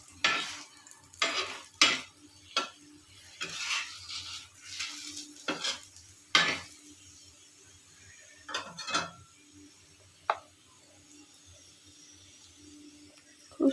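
A chowmein paratha fries in a little oil in a pan, with a faint sizzle under repeated sharp scrapes and clinks of a spatula against the pan, coming in bursts and then thinning out.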